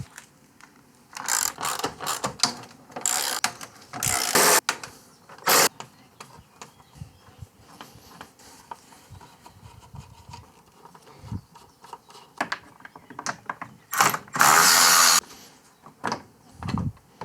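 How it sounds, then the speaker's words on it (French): Ratchet wrench clicking in repeated bursts of quick ratcheting while car parts are removed during an air-conditioning condenser replacement on a Renault Laguna 3, close and loud, with quieter handling noises between bursts. "je vais le faire au cliquet"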